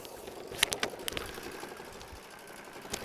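An embroidery machine stitches out a design using green thread, a faint fast mechanical clatter with irregular ticks and needle taps, alone and quiet.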